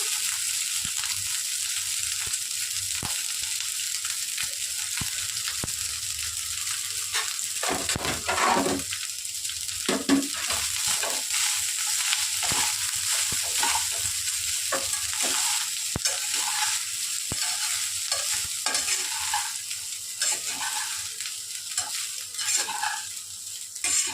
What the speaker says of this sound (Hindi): अब इसमें मैं नमक डाला हुआ राइस ऐड कर रही हूँ